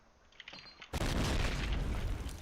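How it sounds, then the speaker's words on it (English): Grenades exploding in ruins in a video game match on the Dawnville map, a few light pops and then a sudden loud, close blast whose rumbling roar fills the rest of the moment. "Yeah, nades into ruins."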